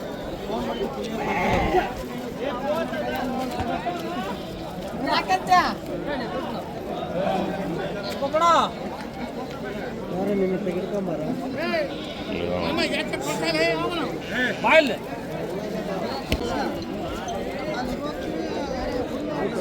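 Sheep and goats bleat repeatedly at the Thursday morning livestock market in Chitradurga, Karnataka, amid a busy crowd of people talking, with scattered hoof clatter nearby.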